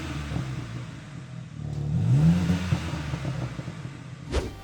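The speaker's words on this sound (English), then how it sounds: "you've got a switchable exhaust system which you can make louder, and the back box on the CSL is made out of titanium" BMW M4 CSL with a switchable titanium rear exhaust box, its engine rising in a brief rev around the middle and settling back, with a short sharp clatter near the end; loud and close, no talking.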